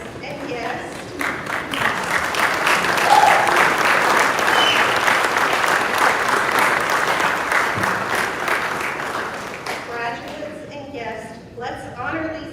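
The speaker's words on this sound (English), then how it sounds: "let's honor these families with another heartfelt gratitude and a well-deserved round of applause" Audience applause at a Christian academy graduation ceremony, a loud sustained wash of clapping that builds quickly and holds for about ten seconds before thinning out, with a speaker's voice heard faintly.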